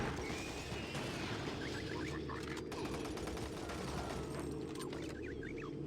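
Dense, continuous gunfire from Doom 3 as imps are shot, with rapid shots blending into a steady barrage over a constant layer of game noise.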